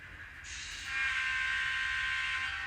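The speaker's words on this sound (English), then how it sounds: "go get a locomotive, and see if I can run a train" A small N scale model locomotive, an Alco C420, runs on a layout, its motor whirring and hissing steadily at close range, its high-pitched hum rising and holding at a constant level.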